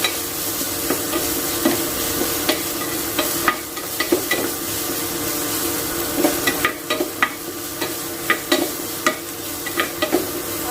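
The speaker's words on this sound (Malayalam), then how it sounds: "നമ്മുടെ സവാള മൂത്തിട്ടുണ്ട്" Chopped onions frying in oil in a pan, continuous close sizzle with repeated spatula scrapes and taps in an uneven rhythm, no voices.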